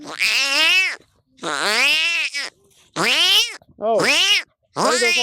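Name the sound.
boy imitating cats fighting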